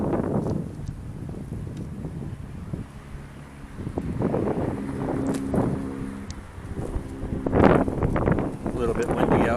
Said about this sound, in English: A little bit windy out.